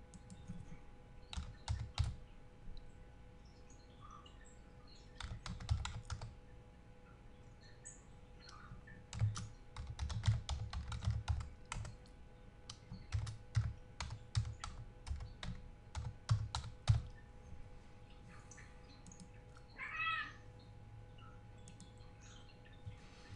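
Typing a password on a computer keyboard, with bursts of quick, close key clicks separated by short pauses across the whole stretch and no talking.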